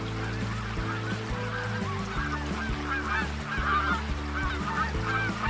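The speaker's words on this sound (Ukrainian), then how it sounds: "бачить, летять гуселебеді" A flock of geese honks continuously in flight, overlapping nasal calls rising and falling in a busy, fairly close chorus with no talking.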